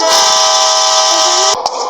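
A loud, sustained video-game train horn blares steadily for over a second and a half, then cuts off into a brief rumble with a short horn blip.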